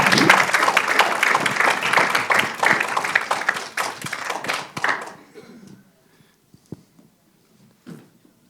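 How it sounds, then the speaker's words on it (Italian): Audience applause welcomes guest director Costanza Quatriglio at Cinema Zero, dense clapping for about five seconds, then quickly dying away to scattered claps and near silence. "la accogliamo con un grande applauso"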